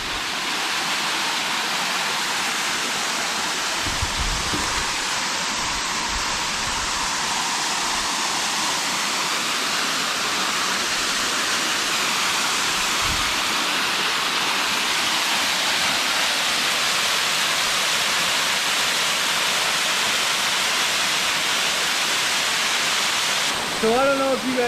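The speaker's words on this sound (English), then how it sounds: "I don't know if you guys can hear me or not over the sound of this waterfall" A waterfall in Colombia roars steadily and loudly from close by, a dense unbroken rush of falling water throughout.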